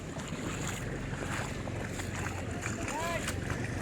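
Strong ocean waves pound a rocky shore, close to the listener. The churning wash is continuous, and gusty wind buffets the microphone throughout.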